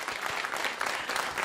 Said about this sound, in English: Big round of applause to all our storytellers.